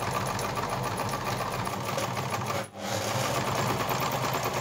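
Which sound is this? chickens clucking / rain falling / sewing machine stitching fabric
sewing machine stitching fabric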